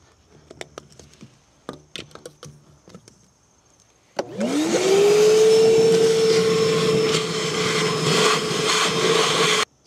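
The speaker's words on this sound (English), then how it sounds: "There's still water, so let's vacuum this water out." A wet vacuum pulls leftover water out of an in-floor pool cleaning system's skimmer during winterizing, starting with a few clunks, then a loud, steady, close roar with a rising whine that holds for several seconds.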